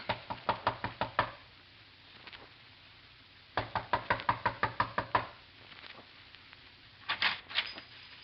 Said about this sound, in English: A knock.